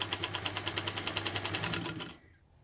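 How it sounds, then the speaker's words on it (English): A sewing machine stitches a quilt block seam slowly, with a steady, even series of mechanical clicks and a low motor hum, close by, stopping abruptly near the end. "we're going to start stitching nice and slowly, stitching our scant 1/4 inch"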